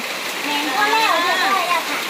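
Heavy rain pours during a flood, a steady, dense hiss of falling water filling the whole stretch, with a voice speaking over it.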